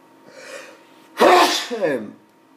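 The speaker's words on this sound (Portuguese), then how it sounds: "Espirrei." A single loud, close human sneeze, a short indrawn breath followed by a sharp explosive burst and a trailing voiced tail.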